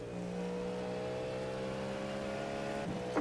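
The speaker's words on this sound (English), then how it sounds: "Just that V8 sounds so nice." A Cadillac V8 race car engine in the iRacing simulator holds a steady, loud, sustained drone with layered harmonics, rising slightly near the end, with no talk over it.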